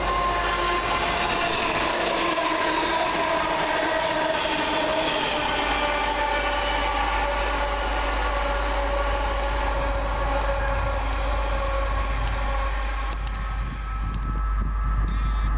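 Train 2C22 from Coventry passes Adderley Park station with a loud, sustained rumble and a deep low drone, close by and continuous throughout.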